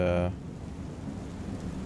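Rain falls in the Star Citizen video game, a steady soft hiss that follows a short tonal sound at the start and runs evenly to the end.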